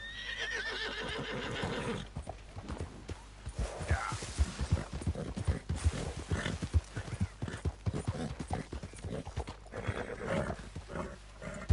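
Horse hooves clip-clop steadily in the Red Dead Redemption 2 video game, a close, rhythmic trot with neighs and snorts mixed in, without talk.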